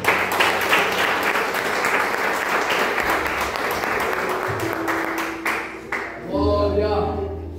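A church congregation applauds steadily through a worship service, with dense clapping that fills the space; a sustained musical tone enters near the end as the applause fades.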